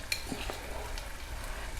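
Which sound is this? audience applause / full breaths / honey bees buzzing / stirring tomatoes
stirring tomatoes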